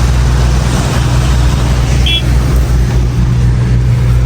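Loud, steady car engine and exhaust drone on a roadside, a dense low rumble that holds constant from start to finish, with a faint voice briefly audible beneath it.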